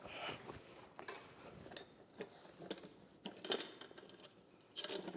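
Faint metallic jingles and clinks of keys knocking against a wheel in a garage while working on a 1965 Mustang, scattered irregular chinks over a soft background.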